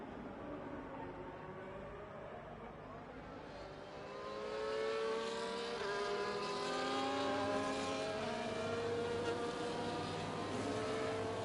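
Race car engines idle and rev in the F1 24 video game as cars roll back to the Texas Grand Prix grid, a layered, rising whine of several motors that grows louder partway through.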